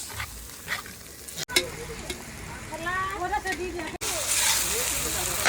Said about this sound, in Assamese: মটন ফ্ৰাই হৈ আছে